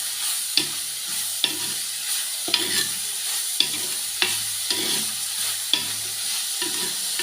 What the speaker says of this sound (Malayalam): ഈ എണ്ണയിൽ കിടന്ന് നല്ലപോലെ വഴണ്ട് വരത്തേ ഉള്ളൂ.